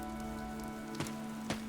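Steady rain falling in the video game Fire Emblem Three Houses, a constant hiss of droplets with two brief louder splashes standing out, no voices.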